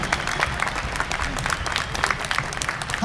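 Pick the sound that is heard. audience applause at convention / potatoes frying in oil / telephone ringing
audience applause at convention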